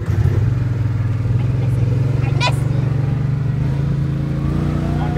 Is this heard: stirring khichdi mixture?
no